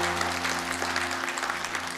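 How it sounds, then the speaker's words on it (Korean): A congregation applauds during a Korean church Sunday service: steady, even clapping from many hands over a low electrical hum. "우리 박수로 하나님께 영광 올리겠습니다."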